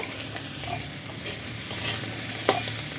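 Mashed green peas with chopped coriander leaves being stir-fried in a pan for a pea paste dish, giving a steady close sizzle with soft spatula scrapes and one sharp clink near the end, no talking.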